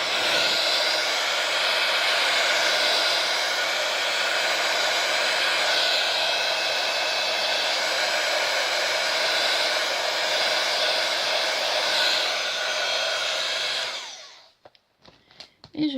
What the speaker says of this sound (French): mon pistolet à chaleur